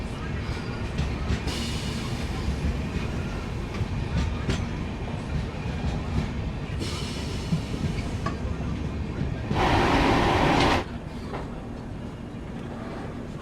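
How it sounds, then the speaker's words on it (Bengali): A passenger train pulls out of Kanthi station, its wheels rumbling and clattering steadily over the rails, with a louder burst of noise near the end as it gathers pace; voices murmur faintly in the background. "ট্রেন ছেড়ে বেরোচ্ছে কাথি স্টেশন"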